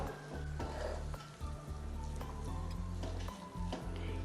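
Food frying in a pan while being stirred, a soft sizzle with scraping and tapping of a utensil, heard over a steady low hum.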